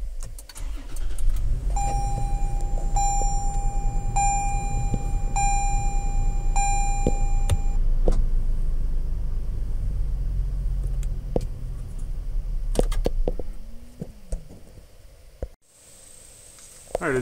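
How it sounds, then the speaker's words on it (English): A 2023 Toyota 4Runner starts and idles with a low, steady engine rumble. A repeating warning chime sounds near the start, and scattered clicks follow later as the rear wiper is set running. "start the vehicle and turn the rear wiper on and get it to come down right around here"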